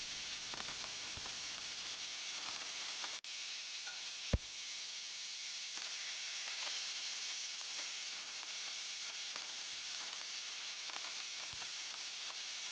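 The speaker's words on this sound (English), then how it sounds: "Add the ground meat and cook until all the moisture has evaporated and the" Ground meat browning in a large stock pot for Lebanese rice with meat, giving a steady soft hiss and sizzle of evaporating moisture that continues throughout, with an occasional faint tick or clink and no talking.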